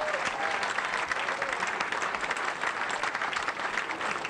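An arena crowd at a bowling world cup men's final breaks into sustained, dense applause, loud and steady throughout, with a commentator's voice faintly beneath.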